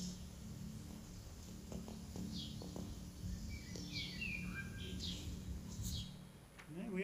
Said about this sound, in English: Apologise for my sparrows at home, they're a noisy bunch.